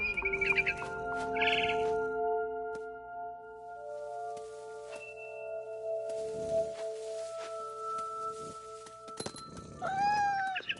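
Cat meowing in the video game What Remains of Edith Finch, several soft meows and a rising cry at the end, set against a low sustained ambient tone and faint rustling.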